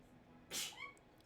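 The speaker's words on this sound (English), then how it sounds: "Your sneezes are tiny and adorable." A single tiny, soft sneeze from a person, brief and sharp, heard up close over a quiet room background.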